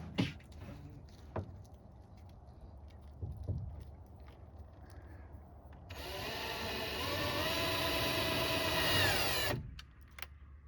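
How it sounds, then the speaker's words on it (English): A power drill boring a hole to mount a curtain rod in a truck camping setup whines steadily for about three and a half seconds, loud and close, after a few quieter knocks and handling sounds. "Now where am I going to drill a hole right there?"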